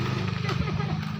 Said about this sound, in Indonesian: Kade motor ya guys